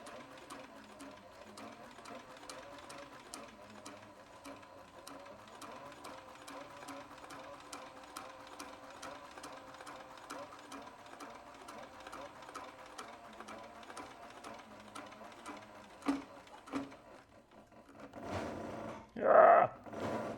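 A sewing machine stitches through thick leather on a tote bag, its needle running in a steady, fast mechanical rhythm for most of the clip before a few louder knocks and handling sounds at the end.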